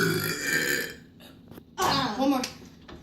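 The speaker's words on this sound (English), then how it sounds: "Give me a burp." A child's loud, drawn-out burp during a jelly bean challenge, followed by a second rough belch, close to the microphone, with a voice speaking around them.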